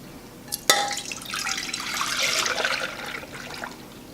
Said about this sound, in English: First, I need to put a quart of milk in a pan.